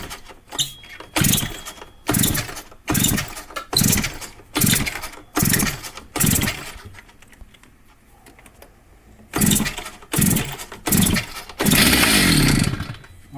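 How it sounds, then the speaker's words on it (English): A Stihl TS400 cement saw is pull-started by hand: a steady series of rasping recoil-cord pulls about a second apart, a short pause, then more pulls ending in a louder, rougher burst. Nobody speaks. "I'm going to give it a couple slow pulls just to get some fuel in it. And I'm going to start it, see what happens."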